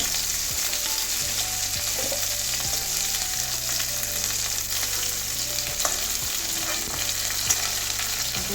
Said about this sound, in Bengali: আলু ফুলকপি ভাজা হয়ে গেছে এবারে তুলে নেবো